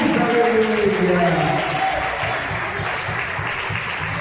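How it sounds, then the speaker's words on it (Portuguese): A church congregation claps loudly for Jesus during a Portuguese-language worship service. The dense, sustained applause fills the room, with voices and tonal sounds rising over it before it eases slightly. "Agora eu convido toda a igreja a aplaudir bem forte ao Senhor"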